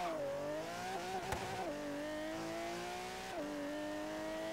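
An Audi engine in Forza Horizon 3 holds a steady, droning note, dipping briefly at gear changes and rising again, close and continuous with no voices.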